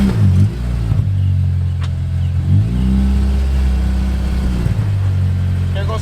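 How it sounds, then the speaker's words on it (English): Car engine revving repeatedly during a preload launch, with low, loud, close blips rising and falling in pitch, a few separate surges, one held for over a second. "There goes the preload one more time."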